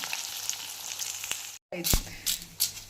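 Homemade hair oil with black pepper and fenugreek heating in a pan on a stove, giving a steady soft sizzle and bubbling crackle, broken by a brief silent gap and a few sharper pops and stirring scrapes.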